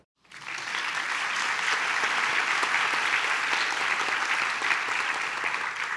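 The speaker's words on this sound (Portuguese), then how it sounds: "esse aplauso com certeza está chegando até eles" Sustained audience applause at an event in Brazil, a dense, steady wash of many hands clapping that starts abruptly and holds loud and even throughout, with no voices on top.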